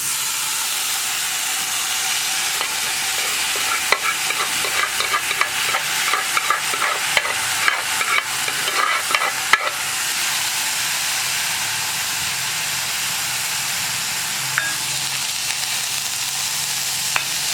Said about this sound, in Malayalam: ഇനി നമുക്കിതിലേക്ക് നമ്മുടെ ചീരത്തണ്ട് വേവിച്ച് വെച്ചിരിക്കുന്നത് ചേർത്ത് കൊടുക്കാം